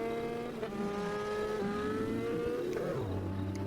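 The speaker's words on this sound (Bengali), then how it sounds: "এখন বাইক নিয়ে যাই, এলাকাটা ঘুরে আসি" Steady engine drone of a motorbike in a game, pitch rising and falling as it revs and shifts, continuous and close with no talking.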